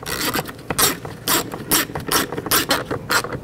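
A ratchet tightens the bolts on a 2019-2020 Chevy Silverado side mirror, giving quick bursts of clicking strokes in an uneven rhythm, close and fairly loud with brief pauses between them.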